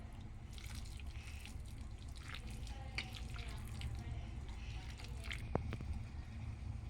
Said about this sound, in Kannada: ಒಂದು ಸ್ವಲ್ಪ ನೀರು ಹಾಕ್ತಾಯಿದ್ದೀನಿ.